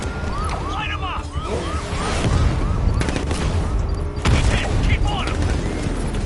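Rapid bursts of gunfire and booms from a combat video game, dense and loud over a rumbling background, with a shouted voice in the mix.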